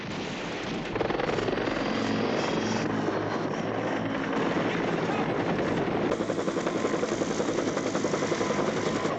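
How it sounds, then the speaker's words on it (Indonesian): Huey helicopter rotors thud in a steady rapid beat with a loud engine roar, close by and continuous, growing slightly stronger toward the end. "datangnya konvoi helikopter Huey"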